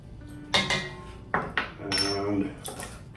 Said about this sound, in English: Can't get the lid off, of course.